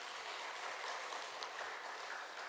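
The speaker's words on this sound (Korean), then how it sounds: "박수 한번 하겠습니다." A Korean church congregation at a Wednesday morning service gives a round of applause, soft and distant, an even continuous patter with no voices over it.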